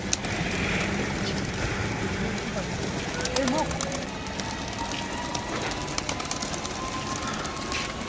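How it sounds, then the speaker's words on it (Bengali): Soft pigeon coos surface briefly over a steady outdoor background with faint distant rumbling. "যে কবুতর ছেড়ে দিয়েছি এই যে কবুতর মাসাল্লাহ হাঁটতেছে"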